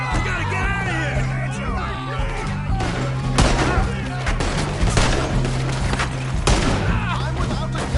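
Gunfire in a Red Dead Redemption 2 shootout, with several loud shots cracking at irregular intervals amid shouting voices and busy game noise.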